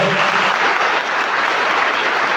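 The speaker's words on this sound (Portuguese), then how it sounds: "Vamos dar uma salva de palmas para eles" A church congregation at a Sunday Mass in Brazil gives sustained applause for the volunteers who made the carpet, a dense, loud, steady wash of many hands clapping together throughout, with no voices standing out.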